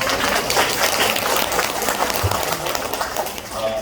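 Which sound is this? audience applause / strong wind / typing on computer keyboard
audience applause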